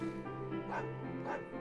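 Dog in a video game barking, two short yappy barks spaced apart over a steady low background hum, fairly quiet overall.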